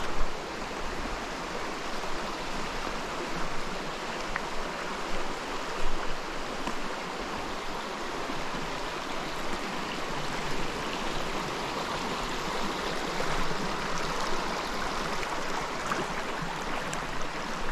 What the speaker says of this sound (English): Going for a little bit of creek walking to get back and forth across the parts of the trail here.